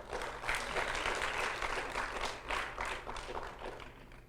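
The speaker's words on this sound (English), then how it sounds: "The claps are an indication of the guests and the family which have come" Guests and families applauding at a graduation ceremony, sustained clapping that swells and dips in waves, dense and moderately distant, with no voices over it.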